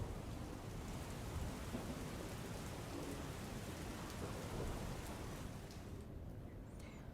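Heavy monsoon rain in Gujarat with thunder, a dense steady roar of rainfall with low rumbling underneath, loud and continuous throughout, tapering slightly at the very end.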